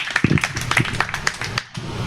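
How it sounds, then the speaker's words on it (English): Audience claps for a speaker at a startup talk event, with a handful of distinct, fairly close claps spread over the moment rather than a full roaring ovation. "please give another round of applause for Henry"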